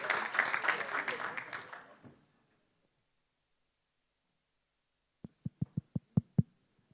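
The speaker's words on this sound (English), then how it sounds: "I'd like to give a big round of applause to Ahmed Mahmasani." Audience applause at a university startup pitch event, a broad burst of clapping for the first two seconds that fades out, followed by silence and then a few sharp separate knocks or taps.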